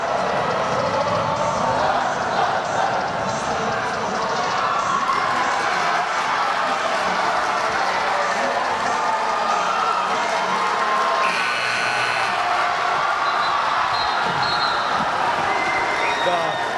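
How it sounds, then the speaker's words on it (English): Spectators cheer at a high school boys' basketball MIAA tournament semifinal between BHS and Norwood in a gym. They make a loud, unbroken roar of cheering and applause that holds steady throughout. "Crowd is into it today."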